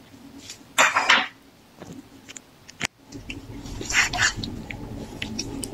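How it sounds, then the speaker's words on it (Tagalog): Almond flour and spices are stirred together in a bowl for a chicken coating, giving scraping, clinking bursts of utensil against dish, loud in two clusters with quieter rustling between and one sharp knock. "Halo-haloin natin lahat ng ingredients ng para sa ating coating at haluin ng maayos."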